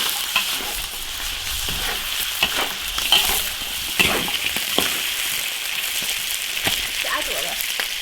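Pieces of chicken fry in an iron wok with a loud, dense sizzle and scattered pops and spatters close by.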